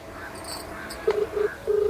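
A few short electronic dial tones beep in quick succession, then a longer steady tone, over faint background hiss.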